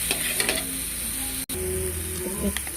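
Garlic, onion and tomato sauté in a pan with a continuous loud, close sizzle and a few faint stirring scrapes, broken by a very brief silent gap midway, with no talking.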